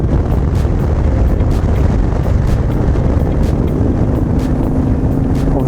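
A Royal Enfield Meteor 350 motorcycle rides uphill while shifting down, with a loud, steady engine rumble heavily buffeted by wind noise throughout.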